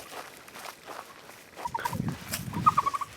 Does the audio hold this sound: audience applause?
no